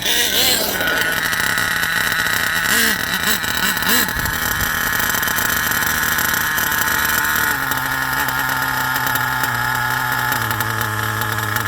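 An HPI Savage RC truck's small nitro engine runs steadily in second gear, a continuous buzzing drone with a few quick revving wobbles early on and slight pitch shifts later, close and loud throughout.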